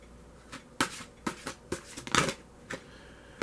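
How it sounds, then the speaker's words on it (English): Oracle cards being shuffled by hand in a quiet indoor setting, a series of soft riffling bursts spaced irregularly across the moment, close and fairly faint, with no talking. "So let's get started by shuffling our cards."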